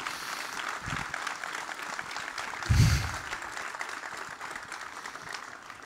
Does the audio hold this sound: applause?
yes